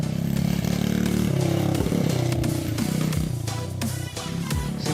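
A small pit bike engine runs loud and close, with a buzzy, rattling note that rises and dips as the revs shift, continuing without pause and with no talking.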